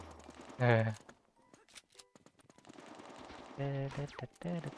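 Gunfire from the 150 gun in an online shooter game, quick bursts of rapid shots mixed with game effects, fairly quiet overall, with a voice speaking between and over them.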